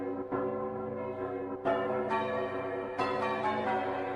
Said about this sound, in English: these are the bells